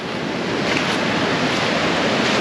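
Heavy surf on the stony shore at Legzira, Morocco, gives a loud, steady roar of breaking and retreating water, with a gusty wind rumble against the microphone and no voices.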